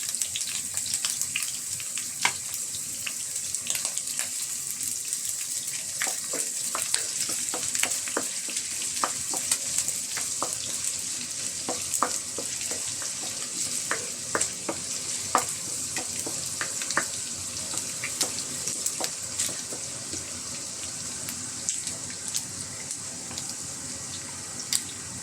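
Ginger sautés in a pan as the first step of pinakbet, a steady close sizzle of frying with frequent stirring scrapes and clicks from the utensil running throughout.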